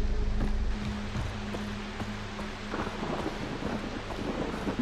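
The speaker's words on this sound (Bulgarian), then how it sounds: "Много дъжд, много нещо." Rain and thunder in the video game Far Cry 3, with a deep rumble opening and then fading into a steady wash of rainfall and wind, plus scattered sharper crackles across the clip.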